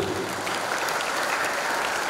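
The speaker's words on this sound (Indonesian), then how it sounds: "Sekali lagi tepuk tangan buat anak SMA 1 Sedayu." A crowd applauds SMA 1 Sedayu high school students at a police youth talk, with steady, even clapping from many hands, moderately distant and without pauses.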